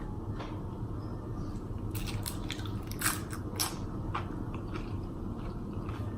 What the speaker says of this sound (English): Look at that bite.